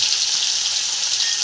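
Chillies sizzling in hot oil with cumin, asafoetida and curry leaves for pauva bateta, a steady close hiss of frying with faint crackle and no talking.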